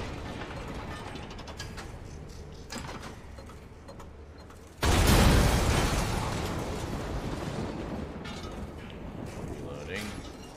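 A quiet stretch of clicking game sounds gives way to a sudden heavy boom, a cannon blast in Resident Evil 5 that rumbles and slowly fades.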